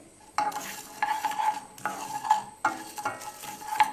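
Puffed brown rice is tossed and stirred in a hot pan, several distinct scraping strokes of a spoon against metal with light sizzling, close and unaccompanied by speech.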